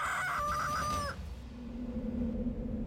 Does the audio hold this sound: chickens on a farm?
yes